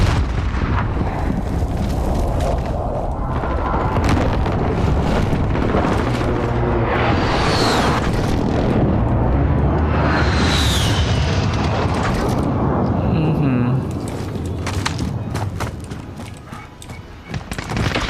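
Precision airstrike explosions in Call of Duty Modern Warfare on PC: a dense, continuous roar of heavy booms and rumbling blasts that fill the whole stretch, loud and close, easing slightly near the end.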